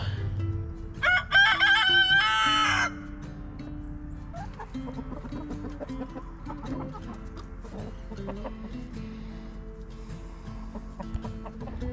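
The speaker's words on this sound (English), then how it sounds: "I think the other rooster notices that 3 of his hens are with our Guapo" A rooster crows loudly once near the start, then hens cluck and murmur softly and steadily in the background.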